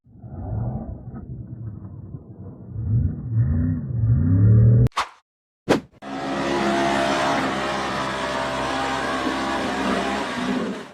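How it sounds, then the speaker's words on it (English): A white 4x4 pickup truck revs and accelerates hard over rough sand dune terrain, its engine roaring loudly and rising in pitch, then cutting out briefly before a sustained, steady roar. "The white pickup truck accelerated hard across the rough sand dune terrain."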